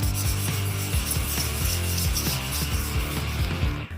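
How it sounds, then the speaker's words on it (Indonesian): Steady rhythmic wet sanding on an oxidized Cadillac Escalade roof, back-and-forth strokes repeating close up, with no voices. "Mari kita coba amplas basah untuk sedikit mengikisnya."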